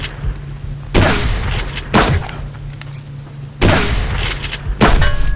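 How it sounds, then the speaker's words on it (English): Several loud grenade blasts and gunfire bursts in the Subsistence survival shooter, with sharp booming hits at about one-second intervals and a pause before the final two explosions. "Oh my god, grenade. That was loud."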